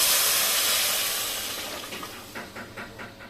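Water poured into a hot pan of frying bhuna khichuri, giving a loud steaming hiss that slowly fades, followed by a few soft bubbling sputters.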